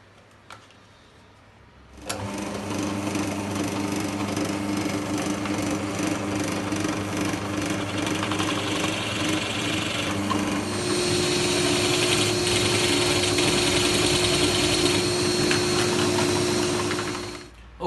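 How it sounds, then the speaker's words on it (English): A pillar drill bores the centre hole through the wooden body of a tobacco pipe: after a short quiet lead-in, a steady, loud whirring grind starts and runs unbroken to the end, growing slightly harsher partway through. "We're going to bore out the centre hole for the main body of the pipe."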